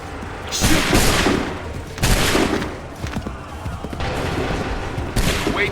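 Musket volleys in Assassin's Creed 3 Remastered crash out as loud, dense rolling bursts, each one a massed fusillade of many shots together, repeating several times in close succession with booming tails.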